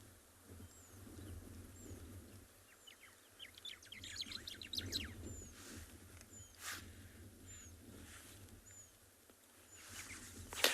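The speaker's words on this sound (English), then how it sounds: "are these birds migratory birds?" Birds chirp and call repeatedly at sunset on a southern African reserve, with short rising notes and bursts of quick twittering that carry over a steady low outdoor hum, moderately distant and unaccompanied by talk.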